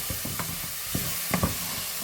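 Soft chopped tomato frying in a pan for a chickpea curry, giving a steady sizzle broken by several scraping stirs and light knocks of the spoon.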